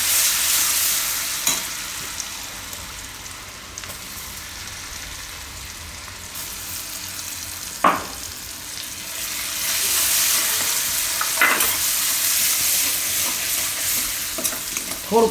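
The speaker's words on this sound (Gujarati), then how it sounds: "આ વાટેલું લસણ ને માખણ બે ભેગું આપણે આમાં વઘાર કરીએ" Crushed garlic sizzles steadily in hot butter, a tempering step for a winter soup, with a constant hiss and a few sharp spatters and clinks of stirring, close and loud with no talking.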